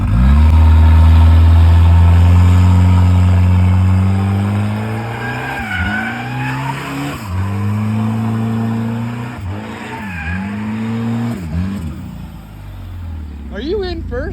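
A car engine revs hard and holds at high RPM, its loud drone rising and falling through several swells, with a faint squeal and people talking nearby.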